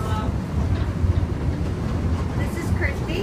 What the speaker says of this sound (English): I'm on my very first train ride.